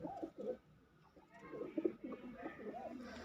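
Several pigeons coo close by in soft, throaty, overlapping rumbles, with a brief lull before the cooing swells again.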